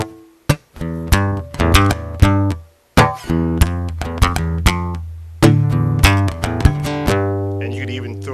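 A guitar strums a rhythmic beat over a chord progression, sharp percussive hits between ringing chords, loud and close with no talk.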